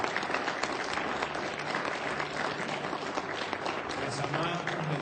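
Church congregation clapping loudly and steadily together in sustained applause, a dense continuous roar of many hands with voices mixed in.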